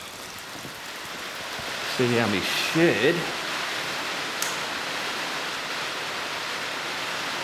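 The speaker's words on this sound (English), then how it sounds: "it's been raining a little bit, but it's just gotten heavier" Heavy rain pours steadily outside a garden shed, a dense constant hiss that fills the whole scene, while someone talks briefly over it partway through.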